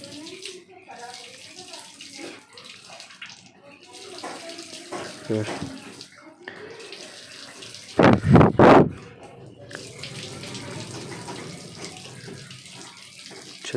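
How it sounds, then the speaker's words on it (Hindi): Water runs from a tap or hose while rose bushes are watered outdoors, a steady splashing flow under intermittent talk, with a louder gushing burst partway through. "पानी दे रहे हैं।"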